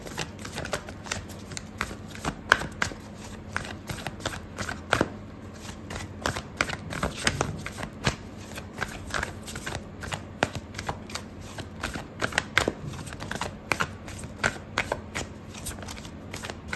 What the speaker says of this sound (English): So I'm going to pull out an oracle card for you,